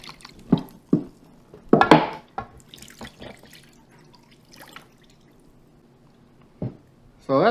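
Apple cider brine poured over a 7.5 pound pork butt in a container, scattered splashes and trickles of liquid up close, coming in uneven bursts with quiet gaps between them.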